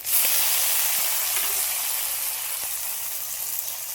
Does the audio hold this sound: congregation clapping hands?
no